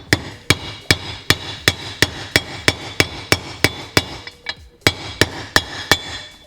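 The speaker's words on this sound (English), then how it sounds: "with a rubber mallet hammer, and I'm going to gently tap it in" A rubber mallet taps a socket to seat a bearing during a garage rebuild of a Seadoo 717 engine: about seventeen crisp, evenly spaced knocks, close and moderately loud, with one brief pause midway.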